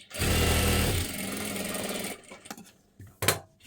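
A sewing machine runs in a fast, loud burst while stitching a blouse lining close along the edge, then slows and stops, followed by a few scattered handling clicks.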